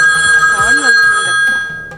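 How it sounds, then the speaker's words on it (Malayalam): A telephone rings in a TV studio during a variety show, its steady electronic ringing tone running under someone talking nearby. "ആ ഫോൺ എടുത്തിട്ട് വരുവേ"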